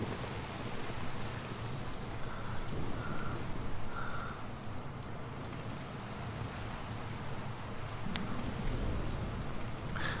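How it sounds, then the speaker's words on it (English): Steady rain in the video game Mafia: The City of Lost Heaven, a continuous soft hiss of falling drops with faint low rumbling underneath, playing throughout without speech. "even though you hear the rain"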